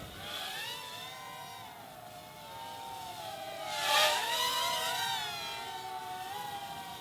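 A WLtoys Q383 FPV hexacopter drone flies nearby, its propellers giving a buzzing whine that rises and falls in pitch as it maneuvers, swelling louder as it passes close around the middle.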